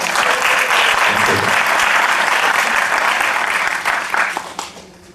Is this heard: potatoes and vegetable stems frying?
no